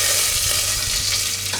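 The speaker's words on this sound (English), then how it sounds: "We let the spices release their flavors in the oil" Mustard seeds, cumin and dry red chilies crackle and sizzle in hot oil in a pan, giving a loud, steady, close frying hiss with faint stirring thumps underneath.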